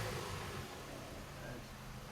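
Ford Fiesta 1.25 Zetec (2011) engine revving with a slight misfire, a steady mid-loud broadband engine drone held at raised revs throughout without clear rises or drops.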